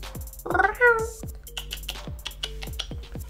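A cat gives one short, clear meow up close in a home setting, followed by quiet soft tapping and small rustling sounds.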